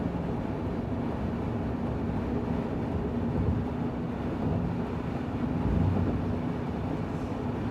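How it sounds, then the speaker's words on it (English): Wind noise inside the cabin of a GMC Hummer EV SUV at highway speed, a steady broad rushing roar from the top of the windshield, with low road rumble beneath and no talking. "It's right up here at the top of the windshield that you hear all that wind noise."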